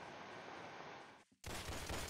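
Pump shotgun blasts in a video game: a loud, dense roar of gunfire that cuts out briefly, then returns with a sharp, heavy report, close and alone without talk.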